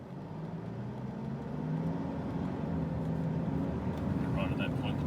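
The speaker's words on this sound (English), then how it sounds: "take the car up to 100 under some quite firm acceleration" Mitsubishi Triton pickup with automatic transmission accelerating firmly toward 100 km/h, a steady low engine drone rising slowly in pitch and level, heard from inside the cab with a voice talking over it.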